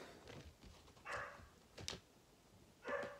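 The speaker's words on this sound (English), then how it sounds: "It's just my dog, guys." A dog barks and whimpers in a few short, separate bursts, faint and some distance from the recorder, with quiet room noise in between.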